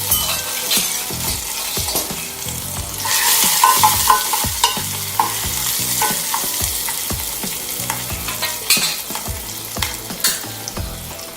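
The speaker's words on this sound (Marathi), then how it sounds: "जी थोडी हळद मस्त फोडणी झाली चरचरीत" Chopped chilli and turmeric tempering crackle and sizzle in hot oil for a Pitru Paksha meal, a busy continuous fry with stirring clatter and sharp pops throughout, fairly loud and close, no voices.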